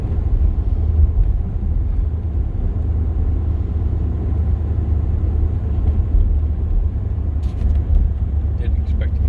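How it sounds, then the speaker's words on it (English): A Chevy G20 conversion van drives along with a steady low engine and road rumble that shifts as it changes gears, heard from inside the cab with a few faint clicks near the end. "Well, it's changing gears, so that's a good sign."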